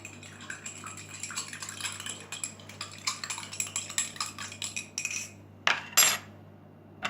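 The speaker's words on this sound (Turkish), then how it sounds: "İyice karıştıracağım." Thick slime mixed with borax is stirred in a bowl, giving soft repeated scraping and sticky squelching strokes with a few sharper clinks of the utensil near the end, close and fairly quiet.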